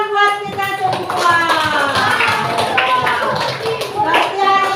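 Schoolchildren in an elementary classroom clap their hands in a busy, steady patter lasting several seconds, with children's voices and chatter mixed in throughout.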